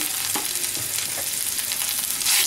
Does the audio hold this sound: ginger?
yes